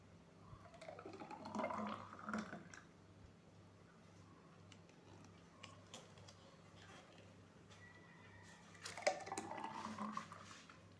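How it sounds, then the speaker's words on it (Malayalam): Blended papaya juice made with milk is poured into a glass in two short bursts of gurgling, rising liquid sound with light glassy clinks, separated by a quiet stretch, all fairly soft and close. "നമുക്കത് ഗ്ലാസ്സിലേക്ക് ഒഴിക്കാം."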